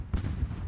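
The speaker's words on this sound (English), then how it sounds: "Fusiliers taking a cannon to the face." A single deep cannon boom in The Ultimate Admiral: Age of Sail, a brief low thud with a rumbling tail.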